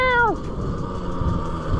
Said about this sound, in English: Oh, kitty!